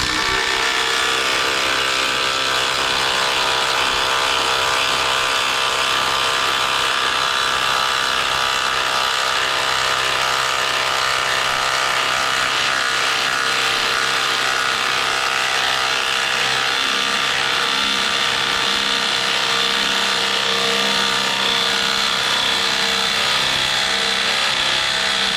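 A Ryobi power tool drives a screw straight into wood without a pilot hole, its motor whirring continuously and loudly with a steady tonal hum and grinding texture for the full stretch, no voices.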